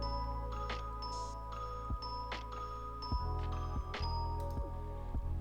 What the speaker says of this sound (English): This is, I believe, a harp or a celeste.